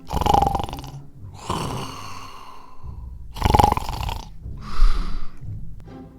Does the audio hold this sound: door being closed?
no